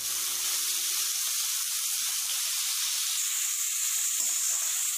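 Cabbage fries for street-food-style veg noodles, giving a dense, loud, continuous hiss of hot oil that holds steady throughout with no stirring breaks or voices.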